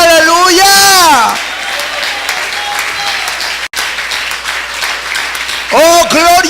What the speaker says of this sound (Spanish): Denle fuerte el aplauso con todo su corazón